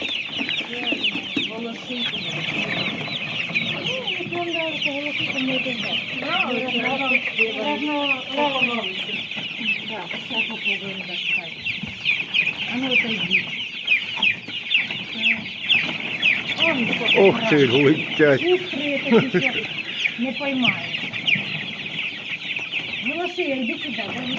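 Domestic chickens cluck and chatter almost continuously up close, with a sustained high bird-like tone throughout and a few brief voices underneath.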